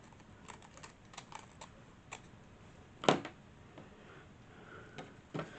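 Scissors snipping a strip off paper napkin material while making a craft gift tag on a tabletop: quiet, scattered light clicks with one sharper, louder cut near the middle, no talking.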